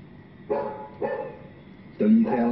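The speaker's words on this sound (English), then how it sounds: "howling at the moon" A dog howls in three drawn-out, wavering calls, each about half a second long, close and fairly loud over a quiet background.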